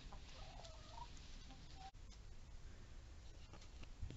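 A Noord-Hollandse Blauwe chicken, a cuckoo-coloured Dutch breed, clucks softly a few times, faint against a steady background hiss.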